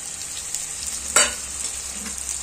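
Onion frying in a pan with ginger, garlic and green chili pastes being stirred in, a steady soft sizzle with one brief louder scrape of stirring near the middle, no talking.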